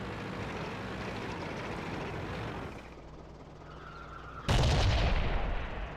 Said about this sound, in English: artillery is still trying to pop